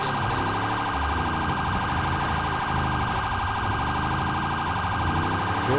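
A police car siren in the GTA 5 video game wails continuously and loudly for the whole stretch, a steady layered electronic tone with no speech over it.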